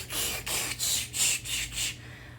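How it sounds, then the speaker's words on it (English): Urban Decay All Nighter setting spray misted onto a face in a close, quiet room: six quick hissing bursts in an even rhythm, each about a quarter second, with no talking. "I don't like to spray like a ton of it on my face"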